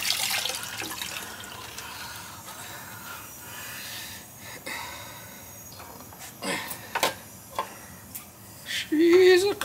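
Water splashes and spills from a hydro air heating pipe fitting in a house, a steady wet hiss broken by sharper splatters and a louder gush near the end, heard close up.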